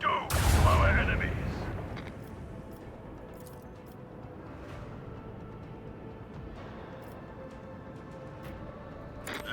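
A macro cannon fires in a grimdark video game, one big booming blast at the start that fades into a long low rumble and echo, with faint scattered impacts afterward.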